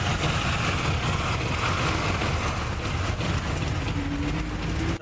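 Inside a packed ST bus a loud, continuous engine rumble and rattling road noise fill the cabin, steady throughout as the bus pulls away.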